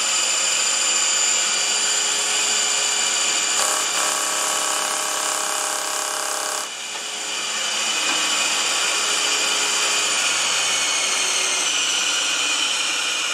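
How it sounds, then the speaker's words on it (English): A floor sander's red rubber drum runs steadily against sandpaper glued to the floor, giving a continuous whirring, grinding hum with a brief change in tone partway through, alone without talk. "we're going to very lightly dress that drum against the floor on that sandpaper we glued down previously"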